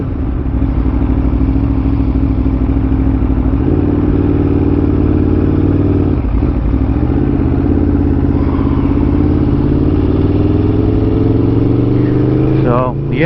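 A 2021 Aprilia Tuono motorcycle engine drones loudly and steadily while riding, its pitch rising and falling as the rider accelerates, with wind noise and no clear talk.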